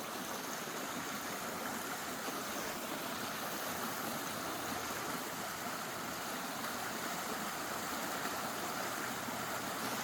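Pond water drains out through a 4-inch pipe in a steady, dense rushing gush, like a stream. It sounds close and continuous with no talk over it.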